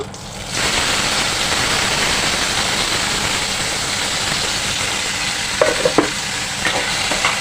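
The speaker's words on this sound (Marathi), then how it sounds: "आता मी कढीपत्ता घालत आहे भरपूर सारा आणि टोमॅटो घालत आहे" Curry leaves and tomatoes crackle hard in hot oil after a brief quiet start, a loud continuous sizzle for a Malvani-style brinjal and potato curry, with a few sharp spoon clicks on the pan toward the end.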